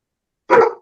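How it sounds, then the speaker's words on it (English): A dog named Pharaoh gives a single sharp bark, close and loud, after a stretch of silence. "The dog answered too."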